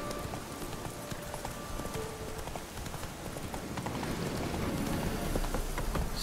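A horse gallops steadily in The Witcher 3, its hooves drumming in a fast, continuous clip-clop over a rough, rain-like background bed that grows a little louder toward the end. No one speaks.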